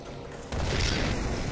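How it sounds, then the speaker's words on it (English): A big explosion in the Sniper Elite 4 video game on the Regilino Viaduct level, quiet ambience abruptly broken by a sudden booming blast that rolls on with a loud, rumbling tail. "That was a big explosion."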